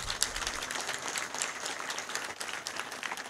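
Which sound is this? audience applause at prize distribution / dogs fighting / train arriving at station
audience applause at prize distribution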